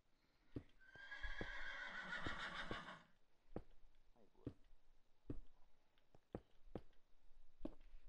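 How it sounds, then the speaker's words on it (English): A horse in the Minecraft video game gives one clear, loud neigh early on, followed by a scatter of sharp clicking hoof-like taps at an even distance, with no talk. "my horse is gonna stay in here with us"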